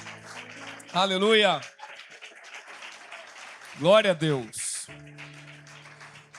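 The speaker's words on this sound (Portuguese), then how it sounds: "Vamos aplaudir ao Senhor bem forte" A church congregation at a conference claps loudly and continuously, with voices shouting praise over the applause twice.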